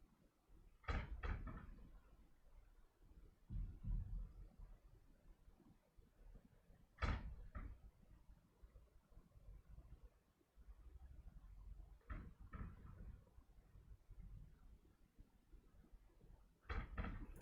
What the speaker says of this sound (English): I'm just going to go and put the towel in between the door because it's rattling.